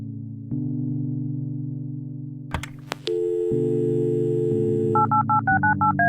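Telephone in the adventure game Kathy Rain: a steady electronic dial tone hums, then a short burst of clicks gives way to a rapid sequence of paired keypad beeps near the end, clean and close with no talking.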